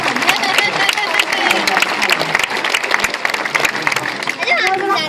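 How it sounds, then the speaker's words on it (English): Audience applauding at a sea lion show at a safari park, dense steady clapping from a crowd throughout, with some voices and children mixed in. "Let's give them a round of applause,"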